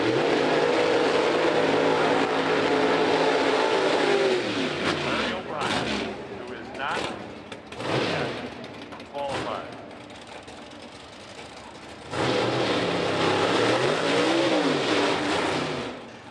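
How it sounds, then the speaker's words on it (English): A Pro Stock drag racing car does a burnout at the NHRA Indy Nationals, a loud roaring engine revving and then cutting out with sharp bursts, under commentary. "So we got a nice burnout from John Pluchino in the left lane"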